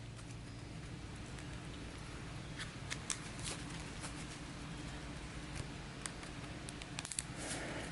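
A deck of game cards is shuffled during a tabletop session, giving soft, steady riffling and flicking with a few sharper snaps, faint and close against a hissy background.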